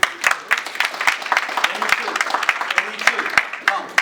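Applause from an audience at a martial arts training demonstration, a dense patter of clapping with sharp individual claps standing out, close and steady for the whole stretch.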